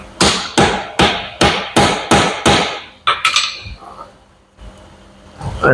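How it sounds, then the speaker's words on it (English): Steady, loud metallic hammer blows drive a wiper seal into a John Deere bucket cylinder, about seven evenly spaced strikes that ring close to the listener, then a few quicker taps and light clinks before a short pause. "Need to hammer a little more"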